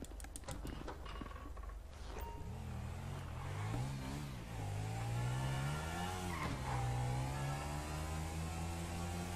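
Engine revving in GTA V, rising and falling in pitch as the throttle opens, loud and steady throughout with a brief dip midway, heard alone without talk.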